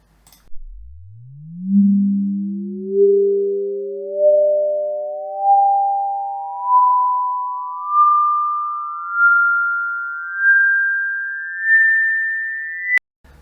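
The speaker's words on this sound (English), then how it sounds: "I've also taken the same delay line and just fed a swept sine wave onto the input." A swept sine tone fed through a synthesizer delay line rises steadily from a low hum to a high whistle, pulsing in regular repeating swells as delayed harmonics stack up, clean and alone, ending with a click.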